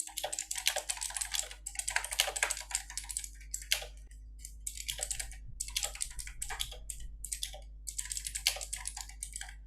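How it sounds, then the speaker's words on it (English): Rapid typing on a computer keyboard during a Python automation workshop, close and continuous with bursts of key clicks separated by brief pauses, no voices. "So I'll just type."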